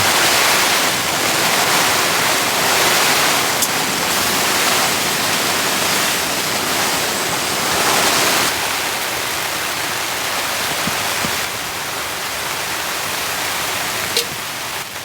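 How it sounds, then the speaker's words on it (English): Dense, steady rain from a heavy storm hisses loudly and continuously on and around a tent, a broad wash of falling water with an occasional faint tap. "It's been raining like this all night long."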